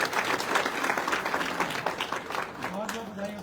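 A crowd applauds Aditya sir at an indoor AWPL gathering, a dense, steady wash of clapping for a few seconds while a voice speaks over it near the end.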